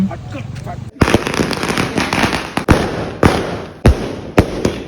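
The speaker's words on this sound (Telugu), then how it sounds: "బస్ స్టాండ్ లోకి అయితే వచ్చి క్రాకర్స్ పేల్చడం స్టార్ట్ చేసాం" Diwali firecrackers bursting at a bus stand, a run of loud sharp bangs spaced about a second apart over a steady crackling roar, close and dominant.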